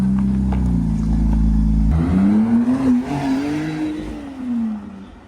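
A McLaren sports car accelerates hard, its engine note sweeping upward through the gears in a loud, continuous roar that rises and dips, close by and alone with no talking.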